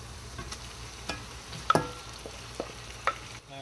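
Beef goes into browned onions and hot oil, a low steady sizzle with a few distinct thuds and clinks as the meat is tipped in and nudged around the pan.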